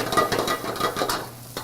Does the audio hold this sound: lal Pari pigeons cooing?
no